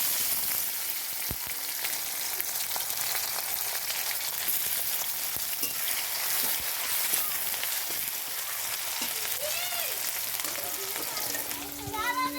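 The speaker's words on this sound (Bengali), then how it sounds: "এখানে আমি পেঁয়াজ আর রসুন কুচি দিয়ে দেবো" Chopped onion and garlic fry in a pan with a steady, moderately loud sizzle that runs through the whole stretch, joined by brief clinks and a few faint background voices.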